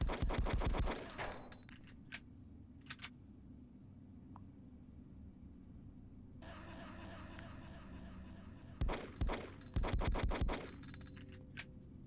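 A .50 Action Express pistol fires in the Hitman: Codename 47 game, with several loud, sharp shots in short clusters separated by quieter stretches of ambient hum and faint clicks.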